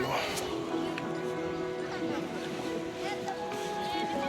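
A small boat's motor starting and running on Chandubi Lake in Assam, a steady low engine hum with faint water wash, heard under a person talking nearby.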